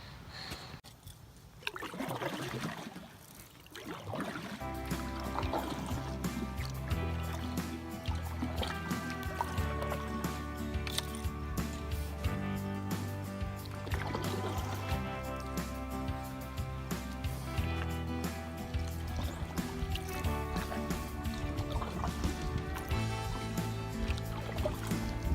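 A solo canoeist climbs into a canoe and paddles on an October lake, with soft water trickles, drips and paddle swishes over a steady close-up rumble, beginning with quieter shuffling and splashing.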